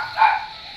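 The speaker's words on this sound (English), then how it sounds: "Brooke is barking like a psycho lady" A dog named Brooke gives a single short bark indoors, a brief sharp yip in the background.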